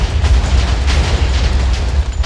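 Continuous loud Minecraft explosions roll together into one dense, rumbling roar with crackling bursts layered over heavy low booms, alone with no talk.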